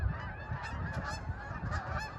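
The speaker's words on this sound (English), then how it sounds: "the geese fly in" A flock of geese flying in over the prairie in early spring, honking loudly and repeatedly in overlapping calls close by, with no talking.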